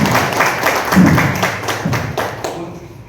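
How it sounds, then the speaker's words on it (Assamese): An assembled audience at an Assamese literary award ceremony claps, a burst of hand clapping with distinct slaps that thins out and fades toward the end. "চাপৰি দিয়ক।"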